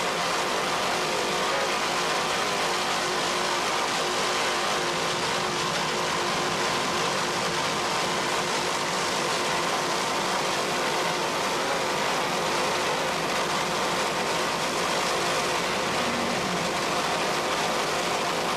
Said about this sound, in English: Listen to those Carolina racing engines.